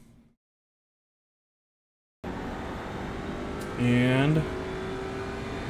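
An Audi RS3 TCR race car accelerates at Mid-Ohio in iRacing, its engine a loud steady drone that rises in pitch after a stretch of silence, with someone speaking over it.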